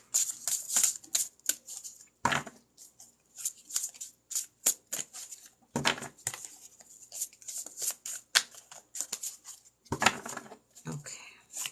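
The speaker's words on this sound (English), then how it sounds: "Let me pull 3 cards." Three cards are drawn from a deck in a series of crisp flicks and slides, a cluster of light taps and snaps spread across the stretch with quiet talk in between.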